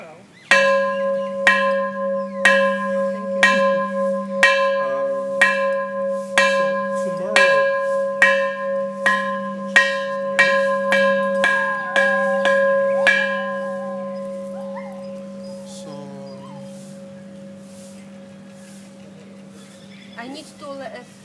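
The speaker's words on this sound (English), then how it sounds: "we're gonna ring the bell right now" A church-style bell is rung repeatedly before prayer, about fifteen clear evenly spaced strikes whose ringing tones overlap and then fade away slowly, with a low steady hum underneath and faint voices in the background.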